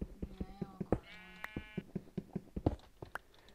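Sheep in the Minecraft video game bleat in short, quavering calls, with one long wavering bleat and a few shorter ones. Rapid clicking and tapping sounds run under them throughout, and there is a trace of voice.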